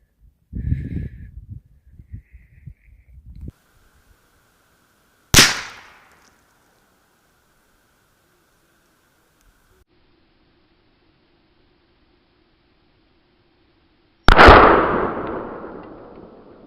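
Two sharp, loud rifle reports from a .375 Ruger firing brass solids at a Level 4 armor plate, each followed by a brief decay, separated by quiet with a faint low hum between shots.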